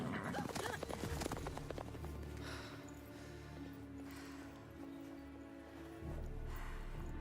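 Hooves of the horse Roach clip-clop in a video game, a steady close trot under game music and ambient sound, with heavy thumps at the start and a low rumble near the end.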